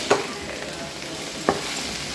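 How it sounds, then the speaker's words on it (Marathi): Dill and pumpkin vegetable frying in a pan as it is mixed, a close, constant sizzle broken by two sharp spatula knocks against the pan, no speech. "भाजी टाकल्यानंतर हे असं मिक्स करा."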